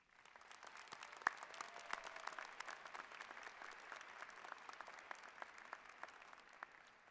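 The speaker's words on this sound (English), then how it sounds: "please join me, students, in giving your family and friends a big round of applause" Applause from the crowd at a Thomas Jefferson University undergraduate commencement ceremony: dense, steady clapping from many hands, heard from a distance and fairly quiet, sustained without a break and with no talk over it.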